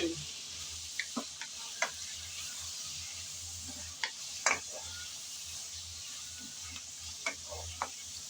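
Potatoes and shrimp fry in a pan while being stirred, giving a faint steady sizzle broken by scattered clicks and scrapes of the spatula, with no talking.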